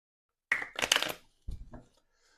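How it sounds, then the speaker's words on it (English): Paper savings envelopes are shuffled by hand in two short bursts of papery riffling and rustling, close and fairly quiet, with no talking. "I am going to give these a shuffle"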